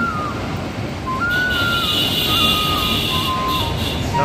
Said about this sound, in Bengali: ঝমঝম ঝমঝম করে চলছে মালগাড়ি।